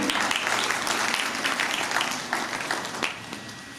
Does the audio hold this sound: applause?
yes